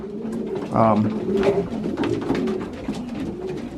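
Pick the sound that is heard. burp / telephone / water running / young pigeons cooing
young pigeons cooing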